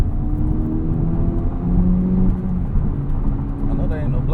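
An Acura Integra Type S with a 2-liter turbocharged Honda engine and a Milltek catback exhaust holds a low, droning rumble near the microphone, with a faint whir on top and a voice talking over it.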